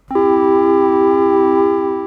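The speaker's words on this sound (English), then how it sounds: "I created a really simple triangle pad synth." A sustained triangle-wave synth pad made in Serum holds a single bright, buzzy note with a soft vibrato, loud and steady for two seconds.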